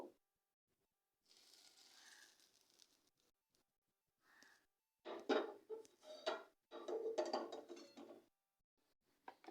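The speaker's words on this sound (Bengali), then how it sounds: "আবারও দেখুন আমি ব্যাটারটাকে মিশিয়ে নিচ্ছি" Batter for crisp pumpkin flower fritters, with a little hot oil added, being mixed in a bowl: soft, quiet bursts of clicking and scraping that come and go in uneven stretches with pauses between.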